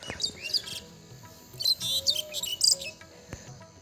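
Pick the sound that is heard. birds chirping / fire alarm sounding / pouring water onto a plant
birds chirping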